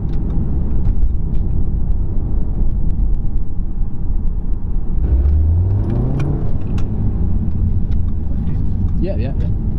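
A 2017 Audi TT S-Line engine rumbles and accelerates, with a rising tone as it pulls through a gear change, heard from inside the car under steady conversation.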